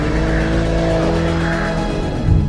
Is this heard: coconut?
no